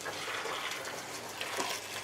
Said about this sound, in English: Kettle of boiled water,